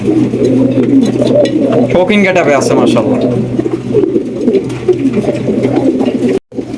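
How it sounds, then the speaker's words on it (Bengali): King pigeons, with Satin, Racer, Lahori, Jacobin and Magpie breeds, coo in a continuous rolling chorus close by, loud and steady beneath someone talking throughout. "অরিজিনাল কিং কবুতর দেখেন ব্লোবার কিং"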